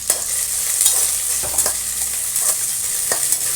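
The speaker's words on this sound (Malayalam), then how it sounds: "പിന്നെ ഞാനൊരു എരിവിനൊരു 5 ഉണക്കമുളക് എടുത്തിട്ടുണ്ട്, അതിട്ട് കൊടുക്കാം" Dried red chillies dropping into hot oil in a pan for a Kerala-style spice mix, a steady bright sizzle broken by soft stirring scrapes and small crackles, close by with no voices.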